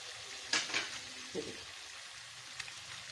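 Tomatoes going into a pan of frying spices with green chili, turmeric, salt and chili powder, a soft low sizzle with a few sharp crackling bursts and stirring sounds, close but quiet.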